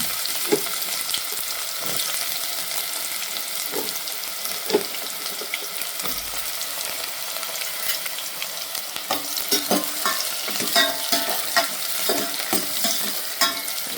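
Cloves, cinnamon and a bay leaf fried in hot oil for a puri sagu, a steady close sizzle with frequent scrapes and taps of a spoon stirring in the pan, fairly loud and continuous, with no voices.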